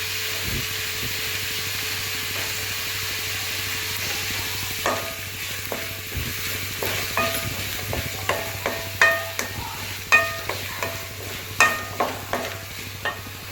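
Dried fish curry ingredients sautéed and stirred in a pan for a village-style karuvadu kuzhambu, a steady low sizzle broken by a run of sharp spoon scrapes and clatters that quicken in the second half.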